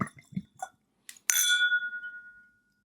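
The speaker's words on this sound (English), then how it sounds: "And let's pour ourselves a little drop." Whisky pours from a natural-cork bottle into a glass: soft handling clinks come first, then a bright, close glugging trickle with a ringing glassy tone that fades away.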